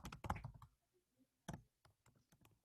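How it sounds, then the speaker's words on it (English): Clicking keystrokes on a computer keyboard in bursts: a dense cluster of quick taps, then a pause, and a few more scattered key presses, fairly close and quiet with no talking. "I'm typing as you guys are talking"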